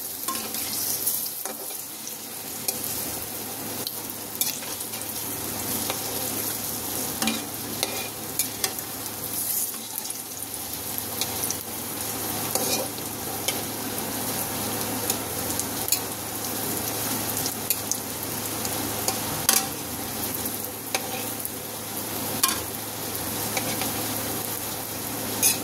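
Palm fruit fritters (taler bora) sizzle and crackle steadily in hot oil in a pan, with occasional stirring scrapes and clinks over a continuous frying hiss, no voices.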